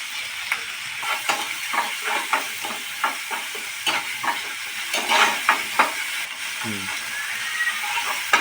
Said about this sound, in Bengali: টমেটোগুলো একটু গলে গলে গেছে পেঁয়াজগুলো একটু ভালো মতনই কষানো হয়ে গেছে